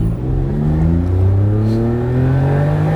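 Autozam AZ-1 kei car at full throttle in first gear, its small engine note climbing steadily in a loud, close rising drone with a brief shift-like dip midway, no voices.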